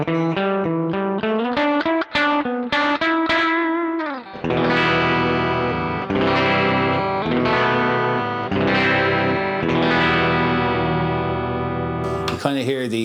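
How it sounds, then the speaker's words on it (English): Electric guitar through a Sonicake modulation pedal with fast vibrato, with single picked notes then sustained chords whose pitch warbles rapidly, loud and continuous, played alone. "You kind of hear the vibrato really move."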